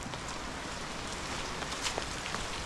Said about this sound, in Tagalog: So medyo malawak na po itong ulan na to.